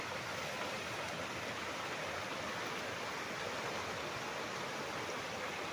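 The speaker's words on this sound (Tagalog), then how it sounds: "Ayan ang ilog mga kaprops." A river flowing past an elevated farm lot in Liliw, Laguna, its water murky after rain, gives a steady, broad rushing wash that holds even and unbroken throughout, with no voices over it.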